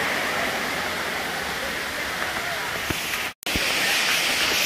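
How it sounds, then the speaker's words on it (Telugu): Palakonda waterfall in Kadapa roars as a steady, loud broadband rush of falling water close by, continuous throughout apart from a brief dropout near the end. "మీకు ఆల్రెడీ మీకు వాటర్ ఫాల్ సౌండ్ వినిపిస్తూ ఉంటుంది కొంచెం దగ్గరలో"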